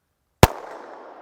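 A single sharp shot from a Smith and Wesson EZ pistol chambered in 30 Super Carry, with the steel target hit at 60 yards merging into the report, then a decaying outdoor echo tail.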